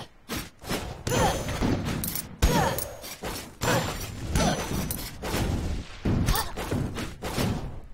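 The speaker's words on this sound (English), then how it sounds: "You're shooting me through the floor" Rapid bursts of gunfire and thudding impacts from the video game Rogue Legacy, enemies shooting up through the floor, loud and dense across the whole stretch with short gaps between volleys.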